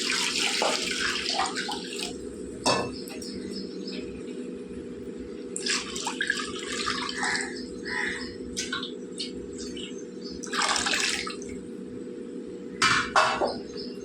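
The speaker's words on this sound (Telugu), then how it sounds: "ఇప్పుడు మనం దీంట్లో నీళ్ళు వేసుకుందాం." Water is added in several short pours to a moong dal mixture in a bowl, each making a close splash and trickle. Quieter gaps fall between the pours, and a bird calls faintly in the background.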